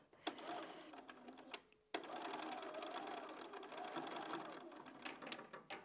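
A sewing machine stitches a small quilt block for an Ohio Star pattern, running in a steady continuous hum after a few short bursts, close and fairly loud, with a brief pause before the longer run.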